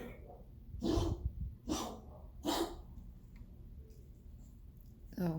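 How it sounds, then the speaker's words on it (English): A dog hacks and retches as if bringing up a hairball, three or four harsh, noisy bursts in quick succession nearby, separated by quiet breathing. "that was my dog. I guess having a hairball."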